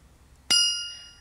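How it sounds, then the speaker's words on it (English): A quarter-full drinking glass of water is tapped once, giving a sharp ringing ding that sustains clearly and slowly fades over about half a second in an otherwise quiet room. "Oh, look, now the glass is only a quarter full. I wonder what note it will make now."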